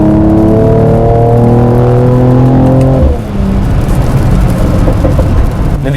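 A 2020 Mercedes-AMG E53 coupe's inline-six revs hard in manual mode, loud and close, with rising harmonic engine tones that drop sharply at a gear change around the midpoint before the exhaust pulls again.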